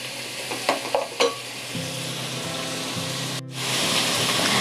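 Onion fries over a high gas flame, a close steady sizzle broken by a few spatula knocks and stirring scrapes, then a brief dip before the hiss swells louder again.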